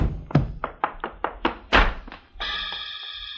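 Old-time radio drama effect of a blow to the head with a gun butt, a run of dull, hollow thunks, with a ringing, sustained tone rising right after the last hit.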